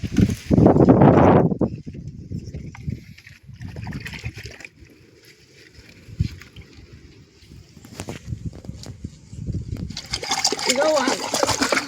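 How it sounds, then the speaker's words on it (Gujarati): Radish being washed by hand in water on a Gujarati farm, with a loud burst of splashing at the start, then softer sloshing and dipping, while a person talks nearby. "મૂળા ધોવા છે મારે તો હું પહેલા એક મૂળો છે એ ધોઈ નાખું"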